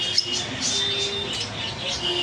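Full-grown albino lovebirds chatter in a bird shop, a steady wash of high chirps and squeaks with no pauses, close and fairly loud.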